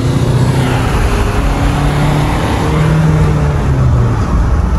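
A Hyundai Alcazar automatic and a Tata Safari manual, both SUVs in sport mode, accelerate hard in a drag race, their engines a loud, steady roar that holds throughout with no voices.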